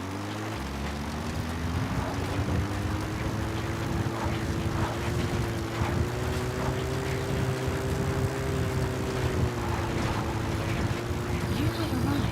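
Steady, loud rotor and engine drone of a support helicopter arriving in Metal Gear Solid V, its pitch wavering slowly throughout, with game speech and effects layered over it.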